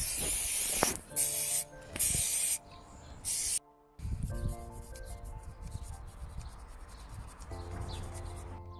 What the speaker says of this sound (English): Spray this on.